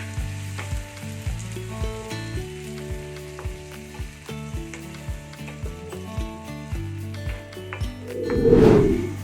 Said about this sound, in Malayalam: ഇനി നമുക്ക് ഇതിലോട്ട് ടൊമാറ്റോ പ്യൂരി ഒഴിച്ചു കൊടുക്കാം എന്നിട്ട് ഒന്ന് നല്ലതുപോലെ ഇളക്കി കൊടുക്കാം